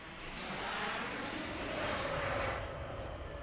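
A steady airplane engine drone plays in the shooter game Plants vs Zombies Garden Warfare 2, a broad roar that swells and eases slightly over a few seconds, with nothing else over it.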